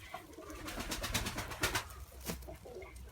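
Soft, low cooing from a pet dove or pigeon, repeated several times at close range amid faint household background noise, with no voices.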